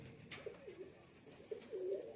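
Pigeons coo softly in a few low, rounded calls spaced across the moment, with a slightly louder burst near the end, heard at close range with no talking.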